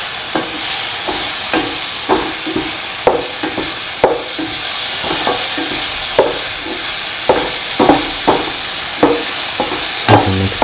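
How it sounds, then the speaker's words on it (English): A spoon works through an onion, tomato, garlic, ginger and green chili mixture with garam masala and salt in a frying pan, giving steady scraping strokes in a loose rhythm over a continuous close sizzle. "Mix the garam masala and the salt with the rest of the mixture."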